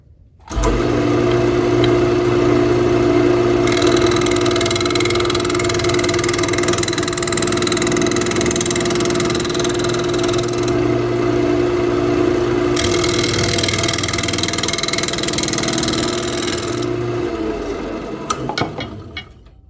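A woodturning lathe spins up with a steady tonal motor hum while a tool cleans up the edge of a spalted crab apple piece, with two longer bursts of brighter scraping before the machine winds down near the end.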